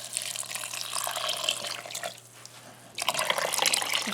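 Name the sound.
water poured over dried pinto beans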